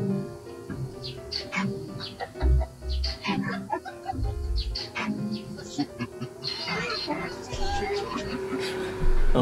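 Chickens cluck repeatedly nearby and a fighting rooster calls during a flood, with people talking in the background.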